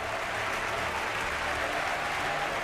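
Sustained audience applause after a Beethoven performance, dense steady clapping from a large crowd filling the space evenly with no breaks.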